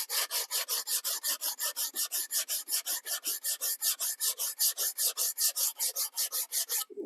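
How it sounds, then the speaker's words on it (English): Steady, rhythmic sanding block strokes scraping back and forth across a wooden guitar headstock veneer, close and fairly loud, about four rasps per second with no talking. "Hit it with a little piece of sandpaper again."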